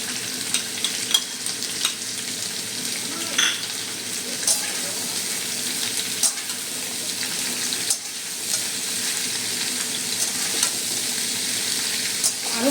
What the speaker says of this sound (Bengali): আরও 3 মিনিট আমি এটা ভেজে নেব।